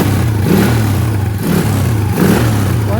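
Kawasaki Fury 125 motorcycle engine, about 15 years old, revving steadily close by in three repeated throttle swells with a low throbbing drone and no voices.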